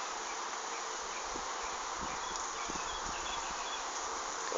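Honey bees buzz at a hive entrance during light rain, a dense, steady insect hum that holds at even loudness throughout, with soft patter and faint ticks mixed in.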